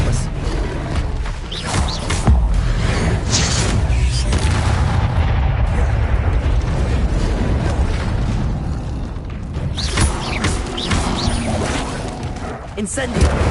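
Incendio and Expelliarmus spells cast in rapid succession in Hogwarts Legacy on PS5, a loud, dense barrage of booming blasts and crashing impacts that barely lets up from start to finish.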